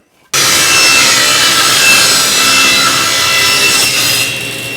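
Wooden boards being ripped lengthwise on a saw, a loud, steady cutting roar that starts abruptly and runs continuously close by, easing slightly near the end, with no talking.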